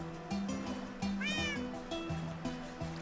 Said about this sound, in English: And then I put a cat in here